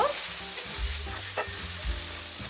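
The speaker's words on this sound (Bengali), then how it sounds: "এবার আমি পেঁয়াজ দিয়ে দিচ্ছি। পেঁয়াজটাকে দিয়ে আমি ভেজে নেব।" Onions frying with whole cumin, cloves, cardamom and cinnamon in a pan for Dakbanglo chicken, a steady close sizzle with soft stirring scrapes and no talk.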